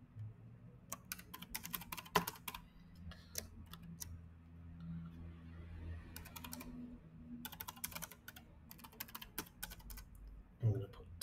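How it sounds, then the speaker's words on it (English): Computer keyboard typing in bursts of rapid key clicks with short pauses, close and fairly quiet, over a low background hum. "So I'll type in"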